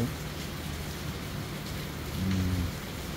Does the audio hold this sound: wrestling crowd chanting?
no